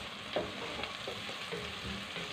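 Peppers fry in a pan as part of a vegetable dish, giving a steady, soft sizzle with occasional light stirring scrapes and no voices.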